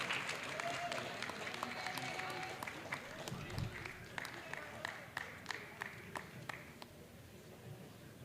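At a school board meeting, a crowd applauds track athletes coming up to receive championship rings, a steady patter of clapping with a voice talking over it.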